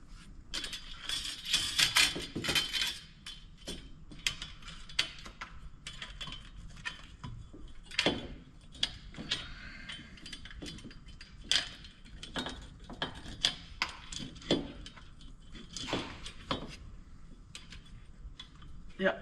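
Ratchet clicking in quick bursts while tightening a clamp during a Rugged Radios MacAir helmet air unit install on a RZR Turbo R4, close and faint, with scattered mechanical ticks and handling noise across the stretch.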